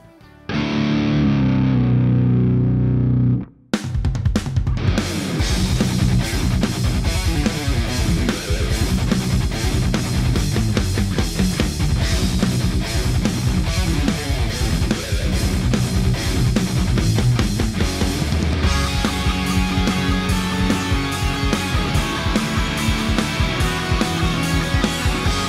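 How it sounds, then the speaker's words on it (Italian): Electric guitar through a Kemper profiling amp with transposed tuning: a short clean chord, then loud heavily distorted riffing with dense chugging rhythm that continues without pause, close and alone. "ci permette virtualmente di accordare la chitarra qualche semitono più basso, qualche semitono più alto"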